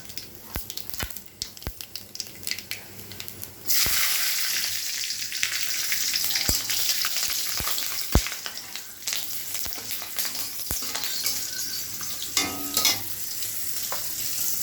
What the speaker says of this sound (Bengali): এটার মধ্যে আমি ফোড়ন দিয়ে দিলাম তেজপাতা, কালো জিরে আর দুটো কাঁচা লঙ্কা।